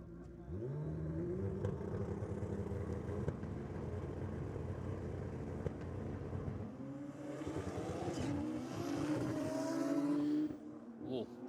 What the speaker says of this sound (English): On board is a turbocharged Suzuki Hayabusa.